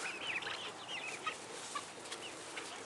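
Chickens cluck and squawk in short scattered calls against a steady outdoor hiss, faint and somewhat distant.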